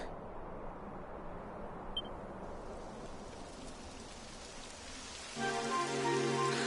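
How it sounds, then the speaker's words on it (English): Steady rain falling with a soft, even hiss, joined near the end by a louder, tonal droning layer. "It would have to go and start raining, wouldn't it?"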